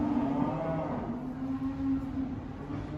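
Feeder cattle low at a livestock saleyard, a long mooing call fairly close and moderately loud over steady background noise of the pens.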